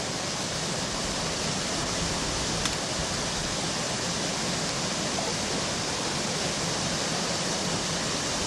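Water pours through an opened sluice on a dammed stream in an old ochre works valley, a dense unbroken roar that stays loud and even throughout, with no voices.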